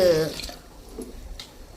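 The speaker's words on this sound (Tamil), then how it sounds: "இப்போ வந்துட்டு அளவு தண்ணி ஊற்றிக்கலாம்." Water is poured into a pressure cooker for sambar rice: a faint, brief trickle and splash that follows a short spoken voice and fades quickly.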